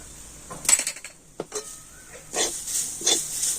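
Vegetables coated in cumin powder, coriander powder and garam masala are stirred in a pan, with intermittent scraping and clinking of a spoon against metal between short quiet gaps.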